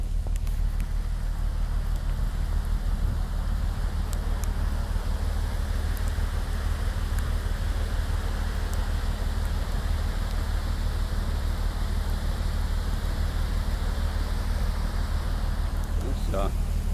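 Steady rain falls over the North Sea aboard a ship, a constant broadband hiss and patter with a low rumble beneath, unchanging for the whole stretch and without speech.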